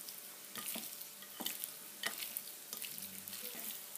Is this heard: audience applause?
no